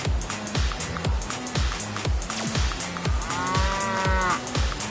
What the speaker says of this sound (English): There goes a cow.